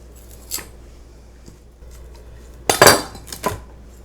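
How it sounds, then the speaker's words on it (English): A small trim knife cuts fennel fronds away from the bulb on a board: a few quick, close metallic snips and scrapes, strongest in a dense burst near the end, with quiet gaps between. "I'll use my little trim knife here. Trim off some of these guys."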